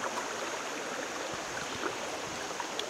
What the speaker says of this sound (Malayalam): ഒരു പുഴ, ചെറിയൊരു പുഴ തോട് പോലത്തെ ഒരു സ്ഥലത്ത് എത്തിയിട്ടുള്ളത്